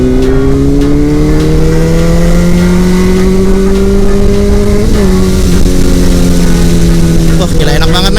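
A vehicle engine is pushed at full throttle, its pitch climbing steadily and then dipping briefly as it shifts before rising again, loud and close throughout.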